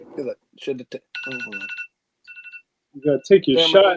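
A mobile phone rings with a repeated electronic tone in short bursts, heard under and between close conversational voices in a casual drawing session.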